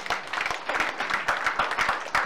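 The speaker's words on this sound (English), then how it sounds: "A round of applause to them, please." Audience applause at a public hearing on a security harmonization bill, a short spell of scattered clapping from a modest crowd, uneven and moderately close.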